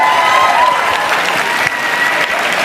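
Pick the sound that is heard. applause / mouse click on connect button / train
applause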